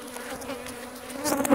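Honey bees at an opened beehive: a steady, close buzzing drone that swells slightly near the end, with no voices.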